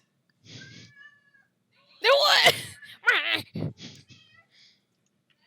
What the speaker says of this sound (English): That's just the sounds of other Khajiits